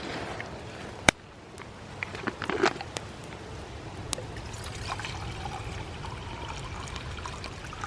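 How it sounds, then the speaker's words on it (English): Two cups of water poured into a pot on a Paleo minimalist camping stove outdoors, a soft trickling splash after a sharp metallic knock, fairly quiet and close. "So I'm gonna put 2 cups of water on there"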